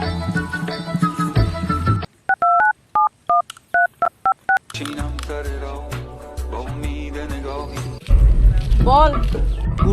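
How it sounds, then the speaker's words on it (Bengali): A telephone keypad is dialed for a call, giving a quick run of about ten crisp, evenly spaced beeping tones, loud and isolated, with voices talking before and after. "নুনাকে ফোন করতো, এখানে আসতে বল"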